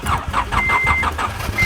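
A 2005 Acura TL engine cranks over with a rapid, repeating starter churn, loud and close, with a faint beeping tone partway through and no talking.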